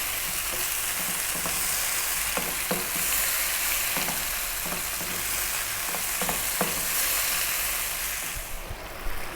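Tomato and broccoli pasta sauce sizzles and frys steadily in a pan, with ripe, juicy tomatoes breaking down into liquid; a continuous bubbling hiss runs throughout, punctuated by occasional stirring clinks, with no talking.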